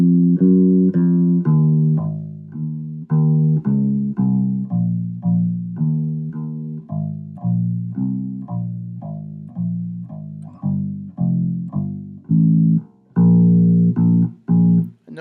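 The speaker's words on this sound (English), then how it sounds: "notice it's a standard kind of walking bass line" A bass plays a steady walking line, one plucked note per beat, moving stepwise, alone and close.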